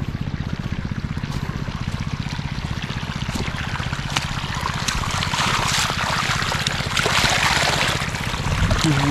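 Irrigation water gushes in a strong, steady flow, a continuous splashing rush that stays loud and close throughout, with a low mechanical throb beneath it.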